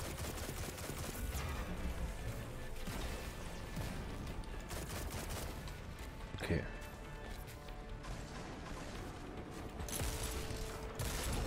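Rapid gunfire bursts from the video game Destiny 2 crackle densely over game effects, with a sharp impact near the middle while someone talks over the action.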